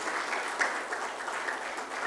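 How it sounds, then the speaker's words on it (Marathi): Steady, dense applause from a conference audience at the Maharashtra Business Conclave 2023 as a guest walks up onto the stage, continuous and even for the whole stretch with no voices standing out. "Keep the claps going."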